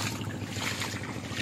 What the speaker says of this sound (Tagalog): hanggang ngayon umaandar yung motor